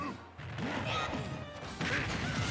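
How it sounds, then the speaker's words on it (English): Ganondorf lands a heavy smash attack on Young Link in Super Smash Bros, a loud crunching impact amid game sounds, with an excited commentator talking over the action. "Super hard smash from Ganon"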